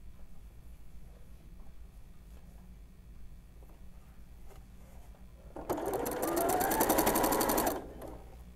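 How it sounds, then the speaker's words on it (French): A sewing machine runs a fast, steady stitching burst of about two seconds on a seam of a double-pompom knit beanie, close and fairly loud after a quiet stretch of faint handling sounds. "On va essayer de faire une couture très proche."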